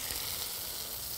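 Steady, bright sizzling from a hot pan, continuous and close, with no talking.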